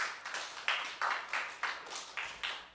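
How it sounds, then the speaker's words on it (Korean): A church congregation claps together at a New Year blessing service, a run of about eight broad, evenly spaced bursts that sound like a slow rhythmic group clap at moderate distance. "하나님이 여러분의 가정을 복 주심을 믿고 하나님께 영광의 박수 돌리겠습니다."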